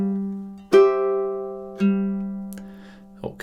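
Ukulele plucks the opening measures of a TV theme, a few sparse notes struck one at a time with long ringing sustain between them, moderately quiet and alone.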